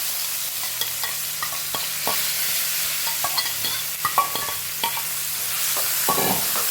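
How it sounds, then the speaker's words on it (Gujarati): Chopped onions and tomatoes sautéing in oil with cumin and asafoetida, a continuous sizzle with frequent scraping and tapping strokes of a spoon stirring the pan, close and alone. "મસ્ત સોતે કરી લઈશું 5 મિનિટ."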